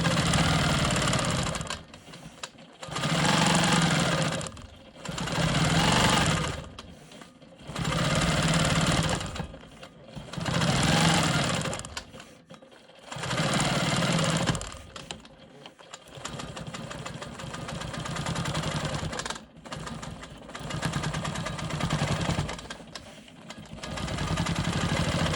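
A sewing machine stitches in the ditch on a rolling stone quilt block, running in repeated bursts of close, steady whirring that break off briefly between runs, with no talk.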